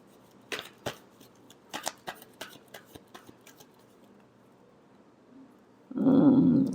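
Tarot cards are riffled and tapped in a quick burst of sharp papery flicks, then a pause, then a louder rustling sweep at the end.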